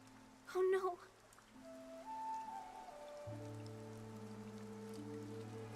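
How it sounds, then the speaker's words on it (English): Rain falls in the video game Infinity Nikki, a steady hiss over sustained musical tones. A short voice blip is heard early on. "The rain showed no mercy."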